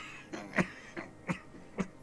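A man coughs in several short, harsh bursts in Disco Elysium, fairly close and fairly quiet, with nothing else around them.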